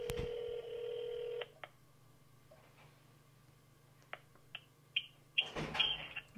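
A long electronic ring tone sounds once near the start as an iPhone X on T-Mobile calls another phone, then quiet line hiss with a few clicks and a burst of noise at the end.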